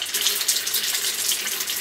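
Water pours slowly into a Doulton water filter being filled for its first use, a steady, close hiss of running water that continues evenly with no voices.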